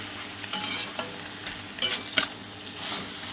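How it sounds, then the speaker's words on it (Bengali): Ripe ash gourd and hilsa fish head fry in a pan, a continuous sizzle punctuated by several sharp stirring scrapes and clinks of a spatula close by. "আর একটু ভাজা ভাজা করবো।"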